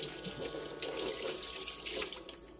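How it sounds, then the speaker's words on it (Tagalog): A tap runs while a dog is being showered, a soft, steady rush of water that keeps flowing throughout without any voices. "it's time to shower"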